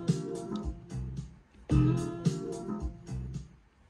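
A house music sample plays back from a sampler at 109 BPM, a chopped rhythmic loop of punchy beats and tonal stabs, close and clear, with no talking.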